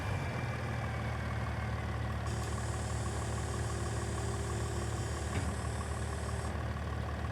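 Steady engine idle of a mower in a farming video game, a continuous low rumbling drone with a higher whine joining partway through, no talk.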